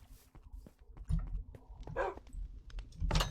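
A dog in Minecraft lets out a few short barks amid scattered clicks and soft thuds of gameplay, quiet and intermittent with no talking.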